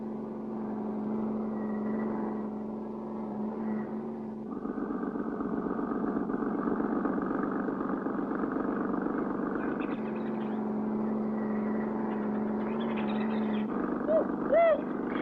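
Cartoon car engine from the 1959 Clutch Cargo episode set in Africa, a steady droning motor running throughout a chase scene, loud and continuous, with brief whooshing accents near the end.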